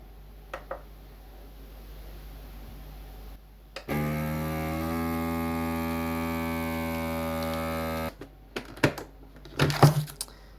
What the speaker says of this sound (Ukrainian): Закриваємо і вакуумуємо.